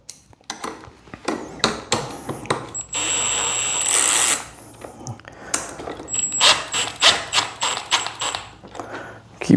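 A ratchet with a socket extension tightens an exhaust bolt on a 2025 Yamaha R3 motorcycle in a workshop, giving a series of close, rapid clicking bursts with short pauses and a brief longer whirring run.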